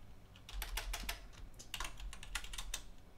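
Typing on a computer keyboard, a quick irregular run of crisp key clicks, close and fairly quiet, with no voices.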